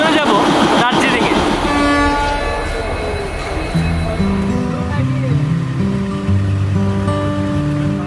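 A passenger train runs from New Jalpaiguri to Darjeeling on an 88-kilometre climb to about 7,000 feet. It rumbles steadily, with loud rattling early on, and then long tonal horn blasts ring out over the running noise.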